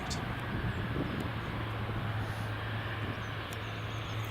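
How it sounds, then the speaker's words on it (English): A United Boeing 757 pushes back at Edinburgh Airport, a steady distant jet engine drone and broadband rumble holding even throughout with no change in level, with no talk. "we've also got the United 757 pushing back as well"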